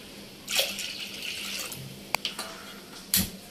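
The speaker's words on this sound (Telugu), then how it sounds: "మనం కడిగి పెట్టుకున్న పచ్చెనపప్పు కందిపప్పుని ఇలా వాష్ చేసుకొని పక్కన పెట్టుకోవాలి" Toor dal and chana dal being washed in water, splashing and sloshing with a few sharp clicks and knocks against the vessel, close and fairly quiet.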